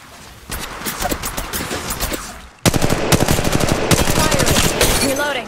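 Video game gunfire: loud, rapid automatic bursts of machine-gun fire in close succession, growing denser and harsher halfway through, with a sharp scraping whoosh at the end.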